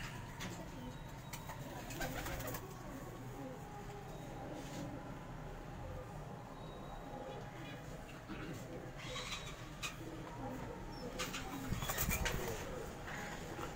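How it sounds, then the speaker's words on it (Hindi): Flying pigeons on a rooftop coo softly and flap their wings now and then, faint and close together under steady background noise. "मैंने कहा आपको उड़ने वाले कबूतर भी दिखा दूं।"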